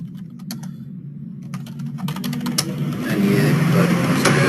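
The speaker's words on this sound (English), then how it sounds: "I put in the keyword and I typed in affiliate program" Rapid typing on a computer keyboard, a quick run of close, sharp key clicks that fades under a swelling low rumble of background noise.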